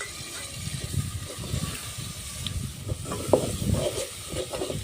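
Tomatoes frying in a pan make a crackling sizzle under repeated scraping stirs of a spoon, with a few louder clinks near the end. The sound is close and busy, and no one speaks.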